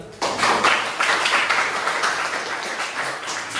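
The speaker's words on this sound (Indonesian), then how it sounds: "Silakan tepuk tangan lebih sekali" A room full of people breaks into lively applause, dense clapping starting abruptly and continuing steadily for a few seconds.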